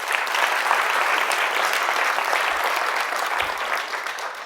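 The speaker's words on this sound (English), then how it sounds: "Big round of applause for her." An audience applauds for a restaurant owner, a dense, steady wash of clapping that stays loud throughout and tapers slightly at the end.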